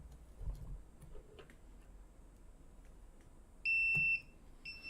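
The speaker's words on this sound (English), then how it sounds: "I use the same program to rewire my circuit for a buzzer" A rewired electronic circuit fitted with a buzzer sounds in short, steady electronic beeps. A sustained tone lasts under a second, then a second one starts, sharp and fairly loud against a quiet room with faint ticking.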